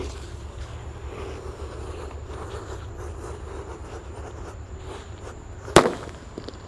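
A red Happy Flower Disco firework planted in the ground goes off outdoors, a continuous hissing, crackling fizz that ends in a single sharp loud pop near the close.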